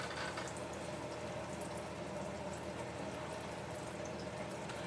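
Breaded dill pickles frying in hot oil, a steady, even bubbling hiss that holds at low volume throughout, with no talking.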